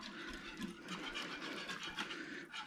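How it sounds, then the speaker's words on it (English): A whisk scrapes and stirs thickening sausage gravy in a pan, giving rapid, continuous scratchy strokes up close with no talking. "hit it with the whisk just to make sure I get everything incorporated well"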